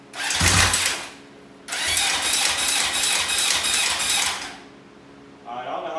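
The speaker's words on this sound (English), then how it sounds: "start this bike up" A 1981 Honda CB750 DOHC motorcycle engine cranks and catches, with a brief loud burst, then a sustained rough running roar of about three seconds that cuts out, and the engine picks up again at the end.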